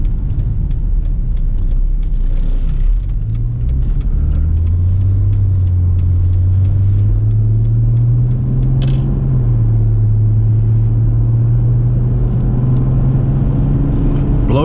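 A car drives down a road with a steady, loud engine rumble and road noise throughout, the engine pitch rising gradually as it gathers speed, with no talking.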